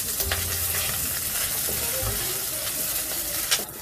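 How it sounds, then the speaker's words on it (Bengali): Onion, green chili and garlic sizzle in oil in a wok, a steady close fry with occasional stirring scrapes and no talking. "পেঁয়াজ, কাঁচামরিচ, রসুনগুলো কিছুক্ষণ ভেজে নেওয়ার পরে"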